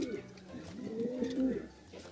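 Racing pigeons cooing softly after a training release at Carranglan, a few low rounded coos under faint outdoor background.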